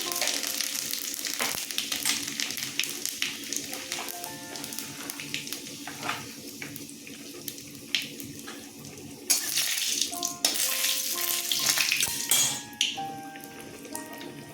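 Whole spices temper in hot oil for a sweet, sour and spicy olive chutney, giving an uneven crackling sizzle broken by clinks and scrapes of a utensil against the pan, close and moderate in level, with no talking.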